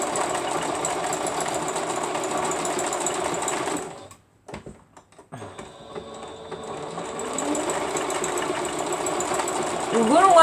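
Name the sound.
sewing machine stitching applique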